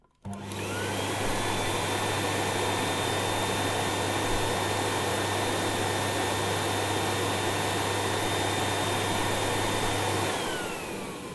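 A vacuum cleaner runs steadily and loudly for about ten seconds with a constant whining drone, then winds down, with no talking.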